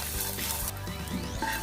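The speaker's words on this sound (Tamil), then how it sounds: "இது நல்லா ஃப்ரை பண்ணிக்கோங்க." Radish, tamarind and curry leaves frying in a pan for radish chutney give a loud, steady, close sizzle with faint stirring, heard alone without talk.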